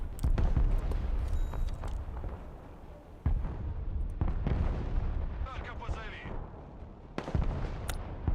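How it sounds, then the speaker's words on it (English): Artillery shells exploding in the video game Broken Arrow, several heavy booming blasts spaced irregularly, some close and loud with rumbling tails, others duller in between. "They're dropping artillery on me."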